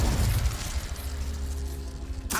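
Incendio fire spell cast in Hogwarts Legacy, a loud burst with rushing, crackling noise that fades out, ending in a sharp pop; no talking.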